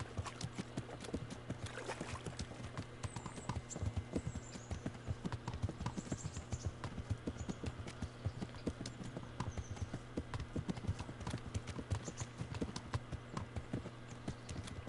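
Horse hooves clip-clop steadily in the Kingdom Come: Deliverance video game, a close, even rhythm of hoof falls throughout with faint outdoor ambience and no voices.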